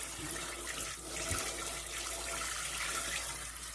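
Running tap water pours steadily over raw eye of round meat being rinsed in a kitchen sink, a continuous close splashing hiss with no talk.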